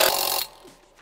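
An impact wrench on its mid torque setting drives bolts on a New Holland/Case IH header, a loud rattling burst for about half a second before it cuts off to quiet.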